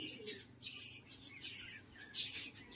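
Green Beldanga pigeons make brief, soft rustling flutters and faint chirps close by, several short bursts in an uneven rhythm, with no talking.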